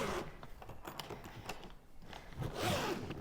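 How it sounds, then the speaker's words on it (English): Zipper being drawn open around a Level8 hard-sided suitcase, a quick close ripping run of teeth with a louder burst near the end. "Easy zipper."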